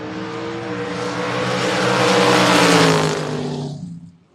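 A Ford Mustang drag race car, a Duster-bodied build, launching at a drag strip event, its engine roaring loud and rising in pitch before fading quickly as it pulls away.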